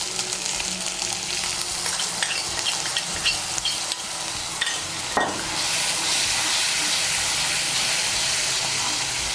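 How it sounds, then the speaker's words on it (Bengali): Spice paste of cumin and coriander powder fries in a pan for egg curry, a loud close sizzle with stirring scrapes, jumping to a fuller, steadier hiss about halfway through. "মিশিয়ে নিয়ে এই মশলাটাকে একটু ভালো করে ভেজে নেব।"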